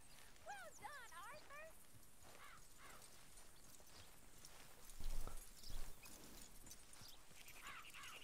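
Horse hooves clip-clop at a walk in the Red Dead Redemption II video game, with a horse whinnying early on and someone talking over the steady, faint footfalls.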